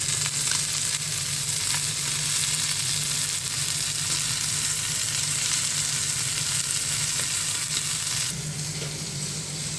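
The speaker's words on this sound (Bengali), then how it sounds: "এদিক দিয়ে আমি লাউ শাক ভাজি করছি, সাদা লাউ শাক ভাজি করছি।" White bottle gourd greens frying in a pan, giving a steady, close, dense sizzle that runs unbroken throughout and drops slightly in level near the end, with no talking.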